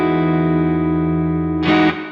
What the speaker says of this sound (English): there is a very nice chord that I'm going to show you today, and that is going to be this major 9 shape